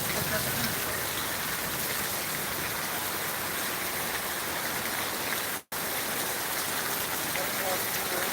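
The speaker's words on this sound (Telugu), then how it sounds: "మొత్తం మీద వర్షం ఎక్కువ పడుతుంది" Heavy rain pours in a dense, continuous hiss across the whole span, loud and steady, with one very brief dropout near the end.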